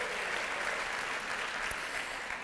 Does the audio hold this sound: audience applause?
yes